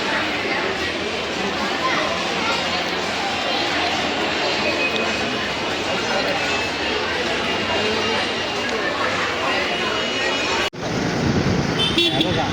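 Busy road traffic with car horns tooting in close succession, engine and tyre noise filling the background as people chatter nearby; a sudden cut near the end leaves the street din continuing.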